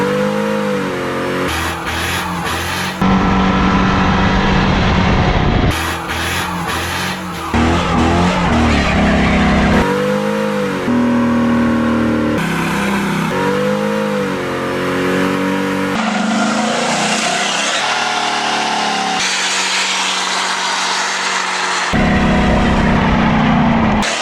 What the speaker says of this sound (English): Let's go see if the truck can do a burnout.